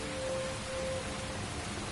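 Steady heavy rain from the video game Heavy Rain, a dense even hiss of downpour filling the whole moment with no voices.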